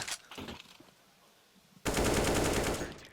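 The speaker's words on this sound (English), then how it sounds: "Yeah, that's just a reaction shot, you know, like onto Drally, of course." Automatic gunfire in Counter-Strike: Global Offensive on the Anubis map during a pro match, a loud sustained burst that erupts suddenly after a quieter stretch of softer shots and game ambience.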